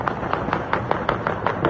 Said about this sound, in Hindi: आतिशबाजी से आसमान जगमगा उठा।